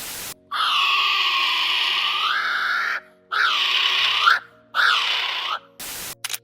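A loud, shrill kiwi call: long drawn-out whistling cries in three extended bursts separated by short pauses, rising and falling in pitch, heard alone.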